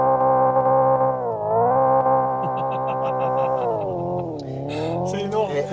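Hyundai Ioniq 5 N artificial engine sound held against the rev limiter, a loud harmonic drone that rises and dips with rapid crackling pops and stutters, close inside the cabin with talk over it.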